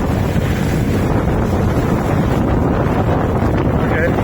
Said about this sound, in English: bit of a thunderstorm. There's hail in some areas nearby.